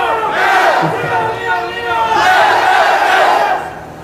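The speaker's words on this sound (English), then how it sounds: "I thought you were cheering my name there" A large crowd at a political rally chants in rhythmic, swelling waves and cheers loudly. The voices are close and fill the whole clip, rising twice in strong surges.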